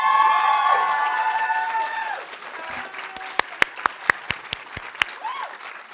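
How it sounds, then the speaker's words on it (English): A ceremony audience at an arts awards event breaks into a round of applause, a dense wash of clapping and cheering that fades out, leaving a few loud, sharp, separate claps near the end. "she deserves that round of applause."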